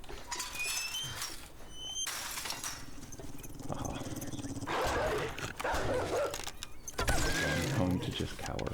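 In an early-game fantasy quest, a dog with a jingling collar barks and yips intermittently over game sound effects and background music, with a player commenting over it.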